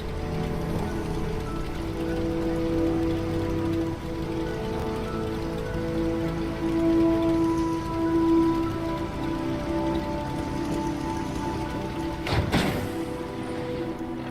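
Rain pouring in the Fallout 76 video game, a steady wash of pattering drops under game ambience and a low tonal drone, with a sharp brief impact near the end.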